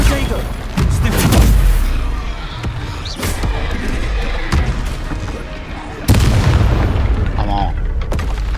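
Confringo spell explosions in the Hogwarts Legacy video game, with loud booming blasts and crackling bursts repeating over several seconds amid combat noise while a man keeps calling out.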